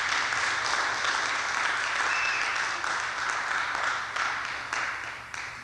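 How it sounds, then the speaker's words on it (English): Sustained applause from a seated audience at a talk on African culture and spirituality, steady broadband clapping filling the room and tapering off slightly toward the end. "Give them another round of applause."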